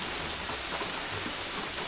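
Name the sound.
rain falling while fly fishing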